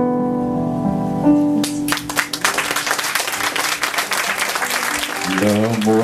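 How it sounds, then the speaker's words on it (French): Theatre audience applauding at a Christmas-special evening show, a dense wash of clapping that swells in and carries on steadily, with music or tones sounding underneath and toward the end. "applaudissez mesdames et messieurs"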